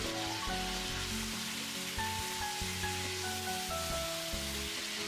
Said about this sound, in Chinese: 加入1勺白糖进去翻炒。